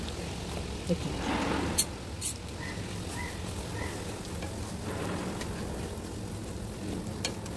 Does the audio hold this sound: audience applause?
no